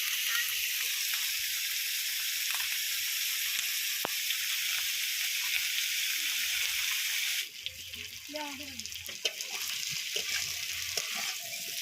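Vegetables frying in a pan after salt and turmeric go in, a steady broad sizzle that shifts to a busier, stirred crackle partway through, with faint voices murmuring underneath.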